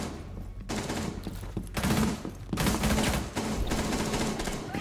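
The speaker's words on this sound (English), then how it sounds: "People are shooting." Heavy in-game gunfire in Rainbow Six Siege, dense bursts of shots and automatic fire crackling almost without pause, loud and close with booming low thumps throughout.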